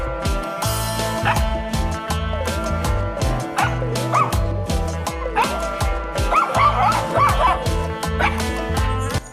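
A sick village dog in rural Tamil Nadu barks in short yips and whimpers repeatedly, close and fairly loud, with steady rhythmic bursts over a constant hum.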